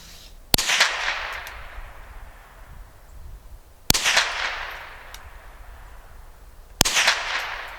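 Gunshots at an outdoor range from a Marlin Model 60 rifle fitted with an MCARBO trigger spring kit: three loud, sharp reports spaced a few seconds apart, each trailing into a rumbling echo.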